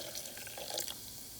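Sparkling Perrier water poured from a cup into quinoa pancake batter, a short, soft trickling splash that swells briefly in the middle and then settles into quiet hiss.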